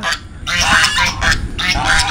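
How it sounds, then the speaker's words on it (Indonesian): Farmed geese honk repeatedly at close range on a rural smallholding, loud nasal calls overlapping in uneven bursts, with some background chatter mixed in. "Tuh ada ternak angsa."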